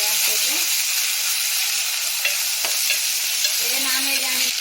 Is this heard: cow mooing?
no